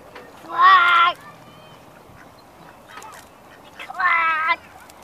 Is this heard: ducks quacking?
yes